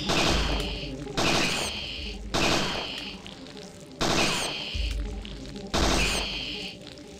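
Gunfire in the survival horror game Parasite Eve II as rats are shot: five sharp, loud shots roughly a second apart, each a broadband crack with a brief decaying tail, over continuous game ambience.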